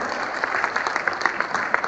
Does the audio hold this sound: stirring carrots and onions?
no